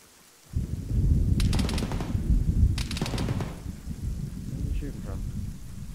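Gunfire in the military video game Arma, with sharp bursts of shots around the second and third seconds over a loud, steady rumbling wash of battlefield noise.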